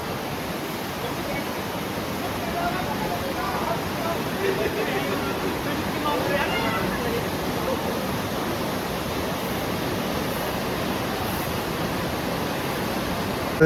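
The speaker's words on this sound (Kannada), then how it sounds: "ವಾಟರ್ ಫೋರ್ಸು ಜಾಸ್ತಿ ಇದೆ." The Ganga river rushes with strong force on the route from Uttarkashi to Gangotri, a steady, loud broadband roar of churning water that fills the scene without pause.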